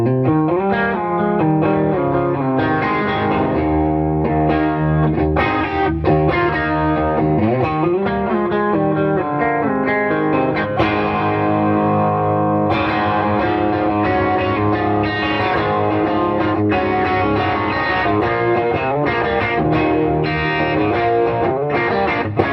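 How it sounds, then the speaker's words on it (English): Electric guitar played through a Bad Cat Hot Cat amplifier on its high-gain channel 1, a loud, thick distorted tone with sustained chords and punchy single notes running continuously without talk. "this same sound that I love, this high gain on channel 1"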